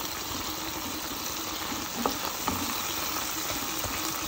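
Tomatoes sizzle and crackle steadily in a hot pan with no water added, cooking until their skins loosen, with a couple of soft clicks of a utensil stirring partway through.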